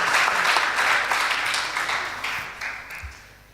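Audience applause for two school debate teams at a debate competition, a dense wash of clapping that starts loud and steadily fades over a few seconds.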